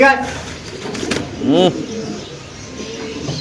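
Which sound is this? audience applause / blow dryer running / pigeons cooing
pigeons cooing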